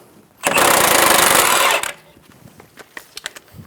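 A loud, buzzing impact wrench with a 19mm socket removing a tie rod end nut on a 2010-2014 Subaru Outback rattles for about a second and a half, then stops. A few sharp metallic clicks and taps follow.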